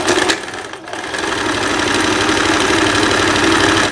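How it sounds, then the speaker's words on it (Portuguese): A domestic sewing machine fitted with a Singer gold ball-point needle stitches the side seams of a thin-fabric blouse, starting with a brief pause and then settling into a loud, steady, close-up mechanical whir with rapid needle rhythm. "Vou costurar já as laterais da blusa."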